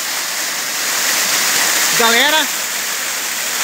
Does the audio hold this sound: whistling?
no